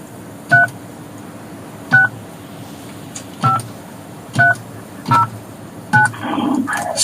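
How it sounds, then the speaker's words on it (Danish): Touch-tone telephone keypad dialing during a live call-in broadcast: six separate beeps with steady, even gaps, heard over a low background hum, followed by a brief burst of noise. "nu ringer vi. Nu ringer jeg."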